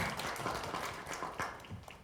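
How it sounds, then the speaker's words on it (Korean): Audience applause welcoming a panelist at an intellectual property research academic conference: steady, dense clapping from a seated crowd, moderately loud and continuous throughout with no voices over it. "박수로 환영해 주시기 바랍니다"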